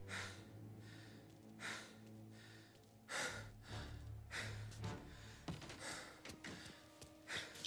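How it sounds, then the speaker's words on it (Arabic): A man in the Mafia video game pants heavily, with repeated ragged breaths and gasps in quick succession, close and quiet beneath a low steady background hum. "الرجال هذا قاعد يلهث بطريقة."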